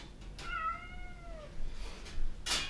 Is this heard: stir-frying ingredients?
no